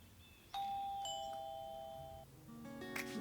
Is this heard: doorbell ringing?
yes